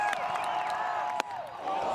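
A college baseball crowd in Lawrence, on its feet at a Kansas game against UCF, holds a steady, loud roar with whistles and whoops, one sharp clap-like hit midway.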